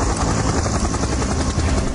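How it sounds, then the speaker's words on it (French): A rented helicopter flies close and loud, its rotor thrumming in a dense, continuous roar with a steady rapid pulse throughout. "Ils décident de louer un hélico pour se rendre sur l'île d'Eiao."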